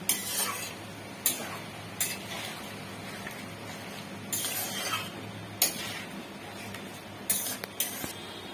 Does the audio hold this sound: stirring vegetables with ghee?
yes